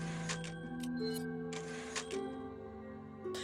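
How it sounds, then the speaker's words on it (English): In Resident Evil 4, the typewriter save sequence plays as a string of short mechanical clicks and clacks, several sharp taps spaced irregularly over a sustained musical tone, with no voices present. "save right here, the typewriter"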